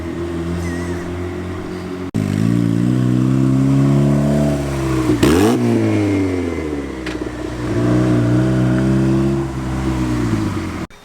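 A turbocharged Mazda Miata engine runs loud and close, revving up and down in long swells with a sharp blip midway and a rough, puttering idle between pulls.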